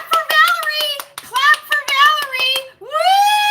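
Rapid hand claps pop beneath a high, sustained child-like voice singing out, the claps tight and close, pausing briefly before a final rising vocal cheer.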